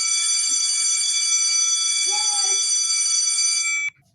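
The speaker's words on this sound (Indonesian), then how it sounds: "karena bel sudah berbunyi" A school bell rings continuously at the end of a lesson, a loud, steady electric ringing that holds for about four seconds and then cuts off abruptly, with a faint voice briefly underneath.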